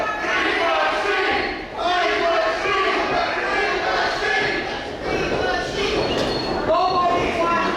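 A wrestling crowd at a barn show cheers and shouts for a wrestler in a continuous, loud wash of many voices, with chant-like calls rising above the din.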